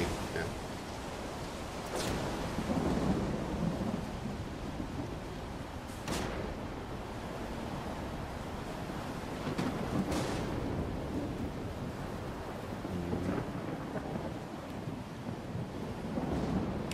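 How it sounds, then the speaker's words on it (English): Wind in the video game S.T.A.L.K.E.R. 2: Heart of Chornobyl, a steady broad rush of gusting air with a few deep rumbling swells over nearly seventeen seconds, with no talk. "It's heckin' windy. It's very heckin' windy."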